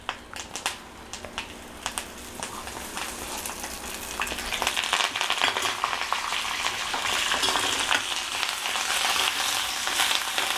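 Fresh curry leaves hit hot oil in a pan and set off a loud, steady crackling sizzle that builds and holds, with a few stirring clicks at the start.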